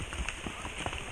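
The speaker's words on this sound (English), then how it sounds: "Or maybe it stopped and we're just getting it from the trees now." Rainwater dripping from trees along a muddy trail in the Smoky Mountains, Tennessee, during a horseback ride: scattered, irregular drops and patters over a steady wet background, fairly close, with no speech.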